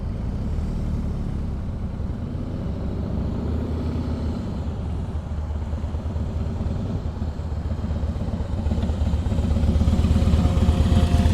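A motorcycle engine idling and rumbling at low speed during slow-speed riding practice in Florida, a steady close putter that grows a bit louder near the end, with no talk.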